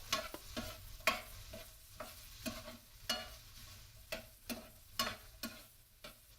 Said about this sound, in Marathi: आणि पडवळ सुद्धा आपण पाच मिनिटं ह्या तेलामध्ये फिरवून घेत आहोत